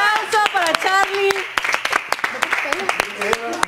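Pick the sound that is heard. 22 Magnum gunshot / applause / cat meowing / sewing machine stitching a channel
applause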